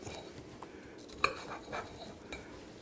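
A knife cutting through hot food, a single sharp clink of the blade against the plate near the middle, followed by softer scraping, quiet and close with no talking.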